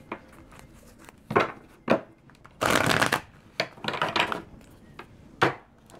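Tarot cards being shuffled by hand, several bursts of crisp riffling and slapping separated by short pauses, close and fairly loud, with one long riffle in the middle and no talking.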